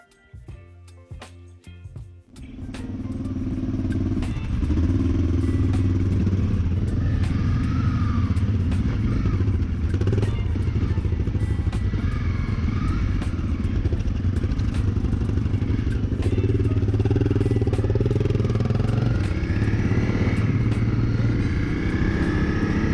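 Dual-sport motorcycles, a Honda CRF Rally, Suzuki DR650 and Yamaha XT600, start and ride off in New Zealand; after brief clatter and a few seconds of idle, a loud, close engine roar rumbles steadily throughout, with no talking.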